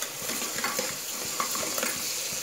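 Onions frying in oil in a pan, a steady close sizzle with repeated scraping stirs of a spoon against the metal over the hiss.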